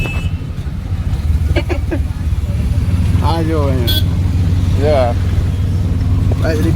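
An auto rickshaw rides along a highway with a continuous low engine drone and road rumble, while passengers chat and call out over the noise.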